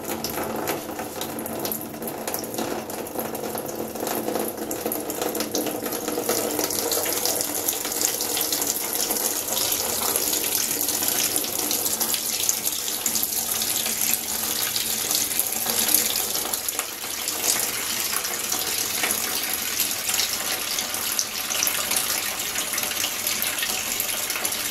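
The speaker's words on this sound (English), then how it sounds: "Here comes the water. So let it drain for a bit." Water drains steadily from a Whirlpool Sport Duet front-load washer on a pedestal, a continuous close splashing trickle that holds for the whole stretch.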